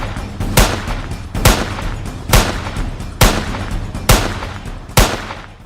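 Six loud gunshots ring out one after another at a steady pace, each a sharp blast with a short echoing tail over a low background hum.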